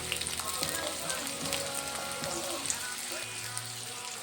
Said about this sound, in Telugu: ఆయిల్ హీట్ అయిపోయింది కదా, ఇప్పుడు ఇందులోనే మనం 1 కప్పు ఆనియన్స్ యాడ్ చేస్తున్నాము